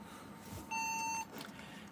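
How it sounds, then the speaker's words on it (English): A single steady electronic beep from a home server, lasting about half a second, clear and fairly loud over a faint room hum, with no talking. "Beep still on."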